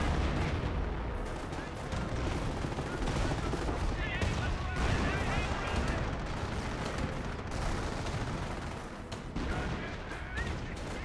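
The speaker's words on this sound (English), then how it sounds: "Hummel barrage in the center." Hummel artillery barrage in the Company of Heroes video game, a dense, continuous wash of booming shell impacts and gunfire rumbling without pause, loud and sustained throughout with a commentator's voice faintly mixed in.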